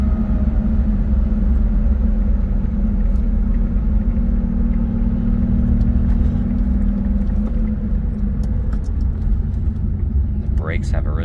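A 1977 Porsche 911 Targa drives on the road, its engine giving a loud, steady rumbling drone throughout, heard from inside the car.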